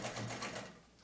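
A vintage Bel Air sewing machine runs steadily in a continuous close mechanical whir with a rapid stitching rhythm, slowing slightly toward the end.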